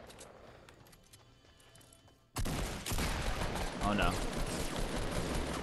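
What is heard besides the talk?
gunshots in the video game Fortnite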